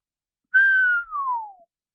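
A single person whistles in appreciation, one clear tone that holds steady and then glides downward in a long falling note, close and alone with no other sound.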